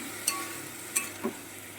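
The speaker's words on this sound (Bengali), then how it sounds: "এবার এটাকে খুব সুন্দর করে নেড়ে চেড়ে ভাজা ভাজা করে নেব" A soft background sizzle with three short scraping clicks of a utensil stirring pea greens with lentil dumplings and eggplant in a pan, spaced unevenly and fairly quiet.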